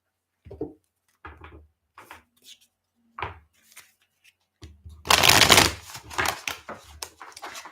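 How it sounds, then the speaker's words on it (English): A tarot card deck being shuffled by hand close up: scattered soft riffles and taps, then a dense, louder burst of rapid card flicking that tapers into a few final shuffling strokes. "I'm just gonna shuffle my deck."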